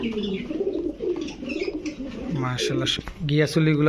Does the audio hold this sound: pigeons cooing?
yes